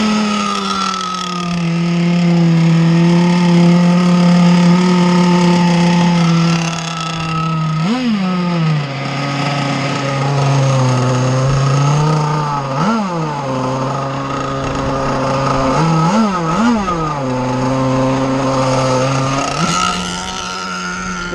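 An RC Jersey skiff boat motor warming up, a loud, close, high-pitched whine held steady and then blipped in several sharp revs that rise and fall.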